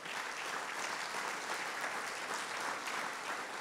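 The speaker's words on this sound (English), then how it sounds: "So let's have a round of applause for that." An audience at a tennis hall of fame ceremony applauds, a dense, steady wash of clapping from a crowd, moderately distant and even in level throughout, with no talk over it.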